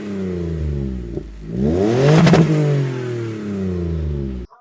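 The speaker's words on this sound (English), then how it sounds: "the owner of this particular car has modified the exhaust to give it, a unique sound. It's not loud, but it's still quite deep." Toyota Blade fitted with a 3.5L 2GR V6 and a modified exhaust, revving hard: a deep steady idle climbs into a loud rising rev, peaks, falls back to idle, then cuts off abruptly at the end.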